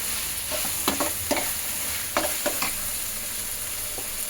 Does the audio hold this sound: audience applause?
no